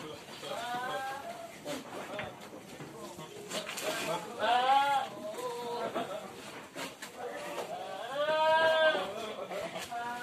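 Goats at a farm raising about 400 head bleat in wavering calls around feed time, with several louder cries near the middle and end of the clip, under constant talk between people.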